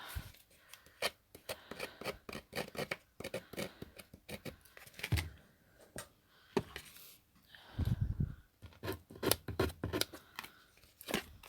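Scissors snip repeatedly through craft material, a dense run of short crisp cuts coming close and clear in an irregular rhythm, quiet overall and with no talking.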